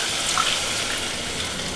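Squeezed pumpkin water poured into a cooking pan, a steady broad rush of liquid, close and continuous for a short moment.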